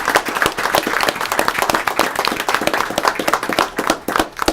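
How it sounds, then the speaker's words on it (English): Audience applause at a school award presentation, dense overlapping claps sustained and fairly loud throughout with no talking. "let's give her a round of applause."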